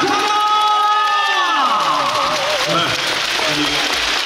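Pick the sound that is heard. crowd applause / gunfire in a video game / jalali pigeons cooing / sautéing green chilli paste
crowd applause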